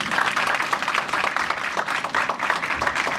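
A church congregation claps steadily during a Sunday service, with a dense, continuous patter of many hands at a moderate level and faint voices mixed in.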